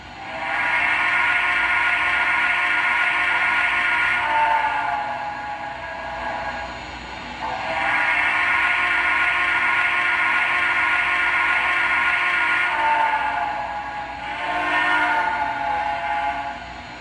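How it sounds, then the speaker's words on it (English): Whistle of an MTH 2-8-8-4 DMIR Yellowstone model steam locomotive sounds in three long, loud blasts separated by short gaps, close and clear with no talking. "Here's the whistle."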